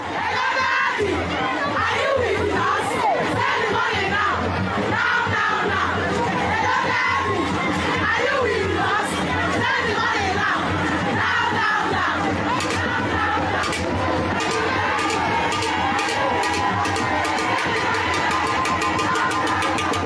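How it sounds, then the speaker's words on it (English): A large crowd of supporters surrounds Nigerian politician Yahaya Bello, shouting, chanting and cheering continuously and loudly, with overlapping voices and rhythmic calls throughout. "Yahaya Bello was seen surrounded by a crowd of supporters"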